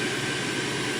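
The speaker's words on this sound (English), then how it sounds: "What you're hearing here is actually the smoke evacuator." Steady broadband whoosh of a smoke evacuator running beside a plasma pen during a skin treatment, a constant loud airflow hiss with a low hum and no breaks.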